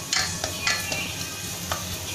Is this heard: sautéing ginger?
yes